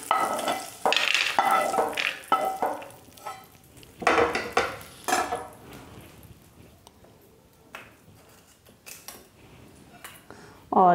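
Dry fruits being lightly roasted in ghee in a pan, with stirring scrapes and soft crackle in bursts that come close and loud at first, then fade to a quieter, intermittent hiss.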